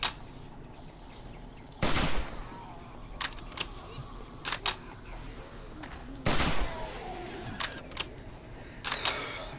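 Gunshots from a gun in 7 Days to Die, sharp isolated cracks spaced a few seconds apart, with a couple of louder heavy shots among lighter clicks and pops against a quiet background.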